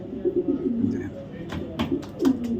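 Racing pigeons coo in soft, repeated low purrs close by, with a few short higher calls and some background voices mixed in.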